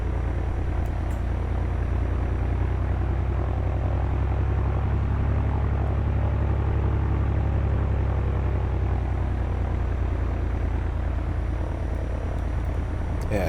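Engine drone of a Bonanza F33A propeller plane in a flight simulator video game: a loud, steady low rumble that runs unchanged throughout with no talk.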